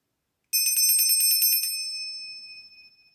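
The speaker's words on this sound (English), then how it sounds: "I'm going to ring a little bell" A small hand bell is rung in a quick rapid jingle for about a second. Its bright metallic tone then rings on alone and fades slowly into silence.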